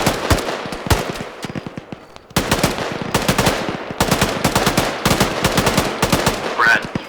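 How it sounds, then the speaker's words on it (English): Suppressing gunfire in the video game ArmA 3, loud rapid machine-gun bursts with sustained automatic fire and short pauses, close and harsh, with no speech over it. "Hey Sam, shoot towards like the top of the red smoke."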